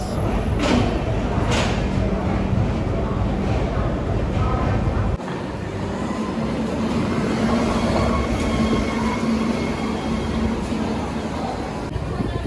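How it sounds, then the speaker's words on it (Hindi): The Banaras Dehradun Express runs steadily between Haridwar and Dehradun, a continuous loud rumble of rail cars with a shift in tone midway, heard from on board. "ट्रेन निकल चुकी है हरिद्वार से"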